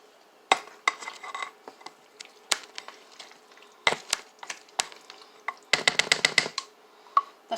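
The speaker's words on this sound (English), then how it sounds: "Grabbing my wooden spoon." A wooden spoon knocks and scrapes in a pot of tomato paste, sounding as sharp, scattered clacks and clusters of quick taps with quiet gaps between, close and moderately loud.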